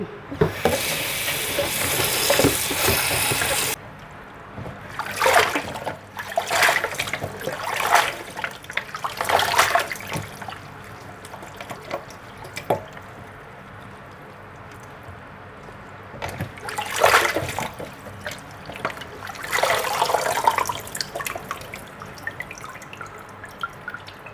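Water running and splashing as fresh vegetables are washed by hand, irregular trickles, drips and gushes in bursts, close and fairly loud, with no voices.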